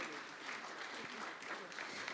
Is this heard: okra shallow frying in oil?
no